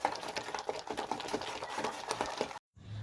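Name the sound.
whisking ground lentil paste with salt and spices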